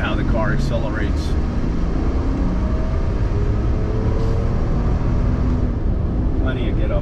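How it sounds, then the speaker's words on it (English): A 1993 Mercedes-Benz 300CE accelerates on an open road, its engine drone and road rumble steady and loud throughout from inside the cabin. "Show you how the car accelerates."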